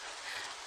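Steady broadband rain hiss during a slow drive through a traffic jam, a constant wash of sound with no voices over it.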